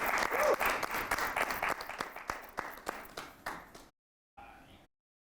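An audience at a tribute performance applauds the artist with steady, dense clapping that fades gradually and stops, followed by a short burst of noise after a brief silence.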